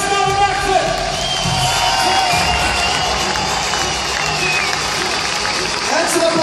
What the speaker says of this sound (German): Nächster Applaus!